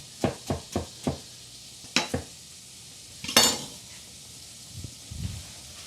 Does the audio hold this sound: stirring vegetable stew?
yes